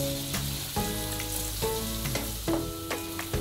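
Thinly sliced onions sizzle loudly in homemade ghee in a wok, a continuous close hiss with periodic scraping and clinking of a spatula as they are stirred.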